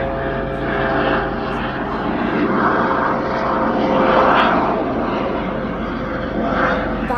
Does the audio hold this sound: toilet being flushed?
no